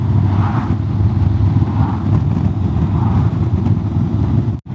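Honda X-ADV 750 scooter engine running at a steady drone while riding, loud and close with wind rush, cutting out abruptly near the end.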